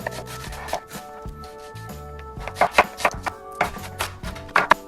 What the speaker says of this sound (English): I'm going to chop the green onion first.